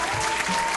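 A brief burst of dense clapping from a crowd, steady and fairly loud throughout.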